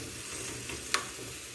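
Onions fry in a pan with a soft, continuous sizzle heard up close, broken by one brief bright clink of a utensil near the middle; no one speaks.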